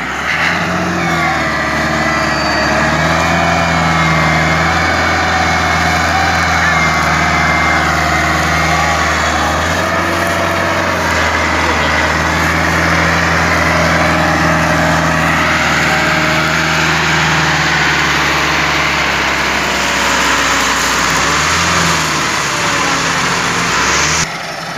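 A Massey Ferguson 385 4x4 tractor strains to pull a loaded sugarcane trolley through mud, its diesel engine droning steadily and loudly throughout with shifting load and revs, close by and without pause.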